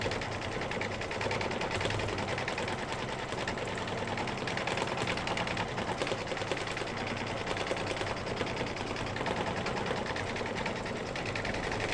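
A sewing machine runs a double line of stitching on a quilt with a continuous, even mechanical whir and rapid rattle for the whole stretch, close and steady, with no talking.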